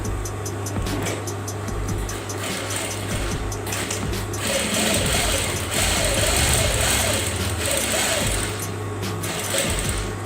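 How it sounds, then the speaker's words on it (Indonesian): A sewing machine stitches jacket pocket fabric in a steady, rapid mechanical whir with rhythmic clicking, running close and continuously, with a faint hum underneath. "Kita jahit mengikuti potongan"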